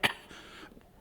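A preacher gives a single sharp demonstration cough at the start, loud and close, followed by a quiet room.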